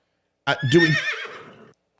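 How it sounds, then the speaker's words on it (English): A horse sound effect: a single loud, close neigh, a sharp whinny rising then trailing off in a shaky descending flutter, alone against silence. "Do we have a horse sound?"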